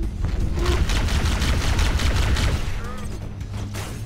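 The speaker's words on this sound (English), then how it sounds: "Of course they attached a grenade to me." A sticky grenade attached to the player detonates in the video game Halo, setting off a dense, continuous burst of loud booming gunfire and explosions that rumbles on for several seconds.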